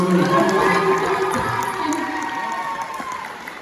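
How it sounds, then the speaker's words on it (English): Crowd at a school poetry and K-Pop showcase cheering and applauding, a loud sustained wash of clapping and shouts that slowly tapers off. "Let's give a round of applause to Miss Kay and Miss Tompkins for sponsoring this."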